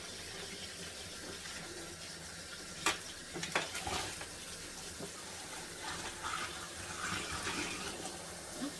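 Water from melted ice running down a sink drain: a steady rushing, gurgling flow with a few knocks and splashes, close by and continuous, with no talking.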